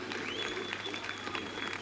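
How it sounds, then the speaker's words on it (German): Dense audience applause with steady, broadband clapping that holds at an even level from start to finish, with no breaks and no distinct voices rising above it. "Da war ein Beifall für Mühle für diese Aktion da"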